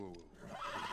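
A horse neighs in the survival game The Last of Us, a close, loud whinny with wavering pitch that fades into breathy snorting over about a second.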